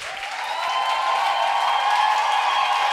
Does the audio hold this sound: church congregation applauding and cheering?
yes